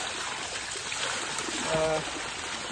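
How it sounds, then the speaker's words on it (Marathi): Water being filled for household use, a steady running stream heard close and continuous, with a slight swell of splashing toward the end. "पाणी भरूया."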